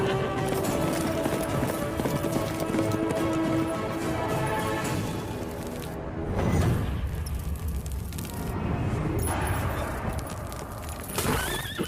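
Horse hooves clip-clop steadily in a dramatic scene from a Hindi-dubbed South Indian action film, with a whinny and a background music score, and no clear speech.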